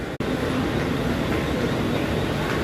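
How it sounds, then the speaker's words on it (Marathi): A Vashi AC slow local train on Mumbai's Harbour Line pulls into CSMT terminus, heard as a loud, steady rumbling roar close by with no break in the noise. "मित्रांनो हे बघा आपली Vashi AC slow local arrive करत आहे मुंबई छत्रपती शिवाजी महाराज टर्मिनसला."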